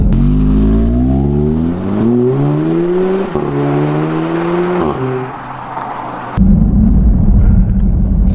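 A 2016 Audi S3 accelerates hard through several gears, engine rising in pitch with a loud, close roar and dropping at each shift before settling into a steady heavy rumble.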